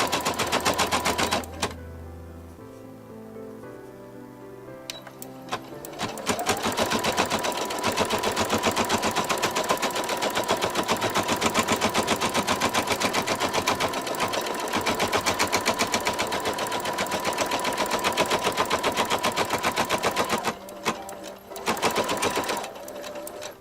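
An embroidery machine runs placement stitching on fabric for a Mylar embroidery piece, a loud, rapid, steady mechanical chatter that continues for about twenty seconds before briefly stopping and restarting near the end.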